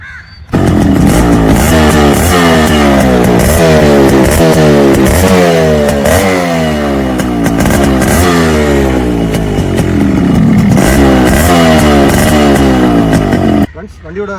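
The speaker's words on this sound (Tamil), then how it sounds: "வண்டியோட பீட் சவுண்ட் பார்ப்போம்." A Yamaha RX100 motorcycle engine idles and revs nearby, its thumping beat loud and steady with repeated rising throttle blips over about thirteen seconds.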